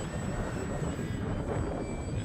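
E-flite Extra 300 RC airplane powered by a 4S 3200 battery, flying in gusty wind, giving a steady, fairly loud motor and propeller drone with heavy low wind rumble throughout.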